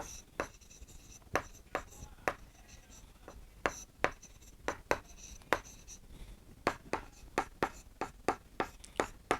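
Chalk or pen taps and strokes mark a board during a class 6 maths lesson, with sharp, irregular clicks and scratches spread across the span, close and distinct, with a teacher speaking quietly at times.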